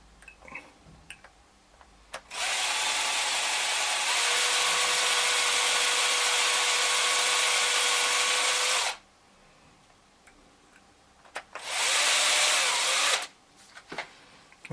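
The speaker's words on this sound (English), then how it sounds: "So I'm going to pre-drill this offside camera because it's a bit tricky," A power drill pre-drills a hole in an offside camera piece on a model before pinning, running in one long steady whine of about six seconds, then a shorter second burst after a pause, close and loud with no talk.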